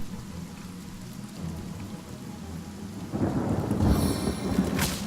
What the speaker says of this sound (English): Everybody's wet because of the rain.